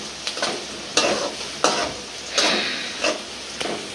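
A spice paste sizzles and fries in a pan for a rui fish curry with flat beans and potato. A spatula scrapes and stirs in a steady rhythm, about six strokes, close and loud over the constant frying hiss.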